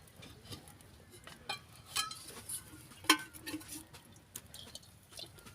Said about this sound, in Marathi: आता हे डाळ मी घोटून घेते